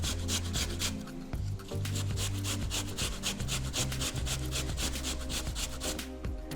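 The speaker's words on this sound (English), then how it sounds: "So I'm grating the meat of the cucumber." Cucumber flesh rubbed against a kitchen grater for tzatziki, making a close, rapid run of rhythmic rasping strokes that continues steadily throughout.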